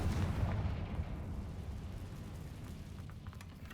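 Confringo blasting spell detonating in Hogwarts Legacy, a heavy booming explosion with a rumbling tail that slowly fades away.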